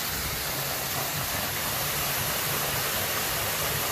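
A waterfall on a hike in Jefferson County roars as dense, continuous broadband rushing, loud and close throughout with no pauses or voices.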